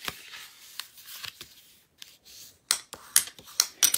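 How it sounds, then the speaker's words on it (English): Paper being scored or folded at the ends for an easy Christmas craft, a string of crisp close rustles, creases and sharp snaps, no talk. "you're gonna be scoring or folding on those ends"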